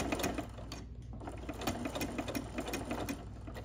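A sewing machine runs a straight stitch along a fabric dart, its rapid needle chatter steady and close for a few seconds with no talking.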